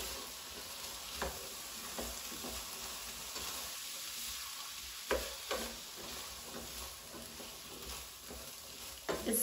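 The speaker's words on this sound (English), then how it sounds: "we're gonna go ahead and cook this for about 10 minutes until they're nice and roasted" Ingredients roasting in a pan over medium heat for a vegan pasta salad, a steady soft sizzle with occasional stirring scrapes and light clicks throughout, no voices.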